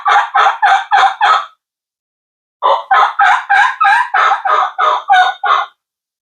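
A Little Deuce two-reed combo cut turkey mouth call, dark green, gives a loud close run of raspy yelps: five evenly spaced notes, a pause, then about ten more in a quick rhythm.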